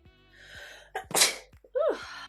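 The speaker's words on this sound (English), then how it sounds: "Lately I've been sneezing 47 times in a row." A single sneeze nearby: a drawn-in breath, then a sharp explosive burst, followed by a short voiced sound afterward.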